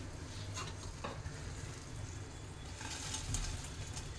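Broccoli pakoras being added to a sauce in a pan and stirred, a faint low sizzle with soft scraping and stirring noises and a couple of brief clatters, no talking.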